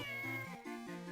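Game cat in The Legend of Zelda: The Minish Cap giving a close, clear run of tonal, stepped meows that shift in pitch over about a second, with no talking.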